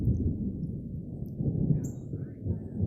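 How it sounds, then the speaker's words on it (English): Distant thunder rolls as a low, continuous rumble that swells slightly and fades, with no talking over it. "There it is, more thunder."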